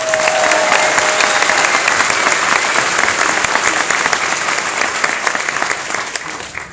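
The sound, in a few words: audience applause for 20 newest citizens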